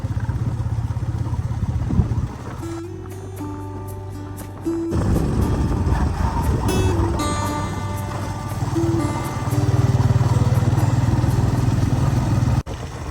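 A motorcycle ridden along a street, its engine running close and loud with shifting revs, gear changes and passing traffic noise, no speech over it.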